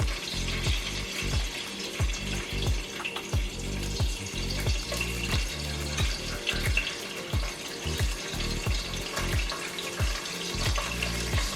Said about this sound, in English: what I wanna do is go on and put my bacon in here and let it cook